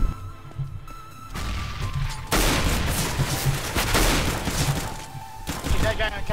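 Rapid AK rifle fire in the video game Counter-Strike, bursts of gunshots crackling over a continuous noisy game backdrop, with players talking over it.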